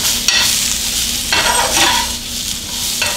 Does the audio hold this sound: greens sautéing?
yes